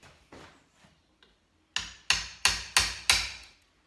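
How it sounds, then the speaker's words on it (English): Hammer and chisel knock back metal lugs on an electrical box while a dimmer switch is fitted: a few faint taps, then five sharp, evenly spaced, ringing blows close by. "I'm just going to get my hammer and chisel"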